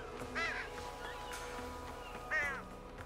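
Pigeon calls in Grand Theft Auto V, two short cooing, warbling bird cries spaced apart over a quiet game ambience, fairly close and moderately loud.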